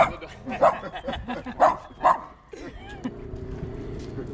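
A dog barks a few times in quick, sharp yips on a New York City street walk, then falls quiet while a low background rumble continues.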